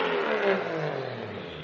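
A Toyota JZX100 with a G25 titanium exhaust revs once in a short, loud, throaty burst up close, and the note falls away within about a second and a half.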